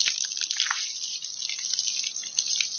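Water runs from an outdoor hose in a thin, steady splashing stream, close by and fairly quiet, with small irregular spatters and no voices.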